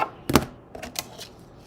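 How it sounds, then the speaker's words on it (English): Cutting card paper for a handmade flower card, a few short, quiet crisp snips and clicks spaced irregularly, heard close up. "I'm gonna go through and cut this once."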